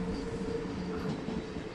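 A panoramic train travelling from Interlaken to Lucerne, a continuous low rumble of carriage and wheels on rails with a steady hum, close and even throughout with no voices.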